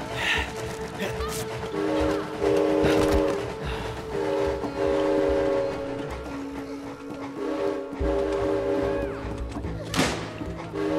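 A passing train in the video game It Takes Two: a steady rumble with sustained, horn-like tonal notes running through the whole stretch, fairly loud and continuous.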